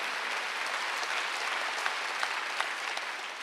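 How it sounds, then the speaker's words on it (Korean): A church congregation at a Wednesday service applauds with steady, sustained clapping at moderate volume, a few sharper claps standing out. "박수."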